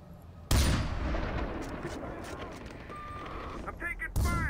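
Gunfire in the video game Far Cry 4 erupts abruptly and carries on as a dense, sustained volley with sharp bursts, a shouted voice partly over it, and another loud blast at the close.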